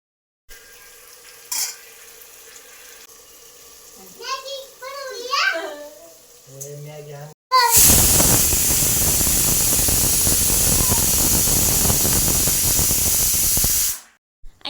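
Masala rice cooking in a home kitchen, with onion, peanuts and mustard seeds hitting hot oil in a loud, steady sizzle for several seconds after someone speaks briefly.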